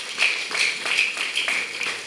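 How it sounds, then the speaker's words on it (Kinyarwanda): A congregation at a Rwandan evangelical church claps for a person being introduced, rhythmic group applause in steady beats roughly every quarter second. "Umukomera amashyi."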